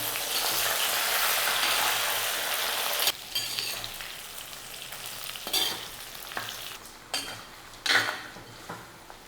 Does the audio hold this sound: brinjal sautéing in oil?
yes